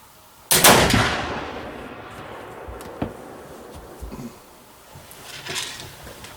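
A flintlock mountain rifle loaded with a 110 grain powder charge fires one sharp, loud outdoor shot that rings out and decays, followed by faint clicks and small handling sounds.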